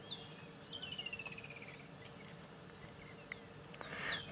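A pair of lilac-breasted rollers displaying at sunset, giving harsh, raspy calls at a distance over a steady bed of insect and cricket noise, with a louder burst near the end.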